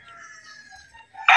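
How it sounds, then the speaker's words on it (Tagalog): A gamefowl brood cock at a game farm crows nearby, one drawn-out call that breaks into a loud burst at the end. "Brood cock niya yan"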